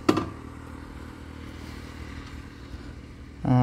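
A TVS Raider motorcycle rides along a highway near Shivamogga, its engine a steady low drone under wind rush, with louder clattering bursts at the start and end.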